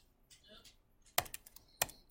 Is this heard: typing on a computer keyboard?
yes